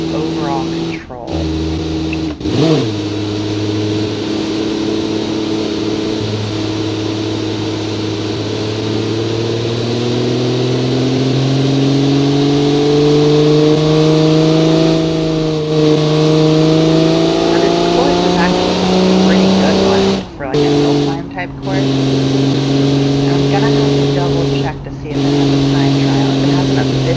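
Simulated car engine in an Automation/BeamNG racing game, a 1945-era build, revs loudly and continuously with steadily rising pitch, then drops out briefly for gear changes before climbing again.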